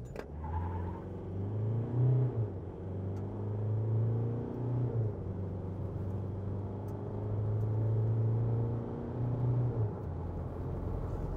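A 2021 Isuzu D-Max pickup accelerating from 0 to 100 km/h, its engine droning as it climbs through several gear changes, heard steadily from inside the cab.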